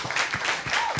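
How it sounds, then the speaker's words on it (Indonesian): An audience at a comedy roast breaks into applause, a short burst of dense clapping with rhythmic swells that holds steady for about a second. "tepuk tangan untuk mereka"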